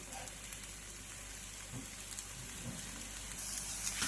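Pancakes of raw potato and wheat flour fry in a pan with a soft, steady sizzle and crackle, quiet and close, with no talking.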